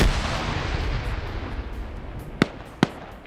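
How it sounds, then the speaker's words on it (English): Two sharp grenade blasts burst out in quick succession during an Arma 3 PvP match, cutting through a steady wash of distant gunfire and battlefield rumble. "Grenades going up on the compound. Grenade thrown back."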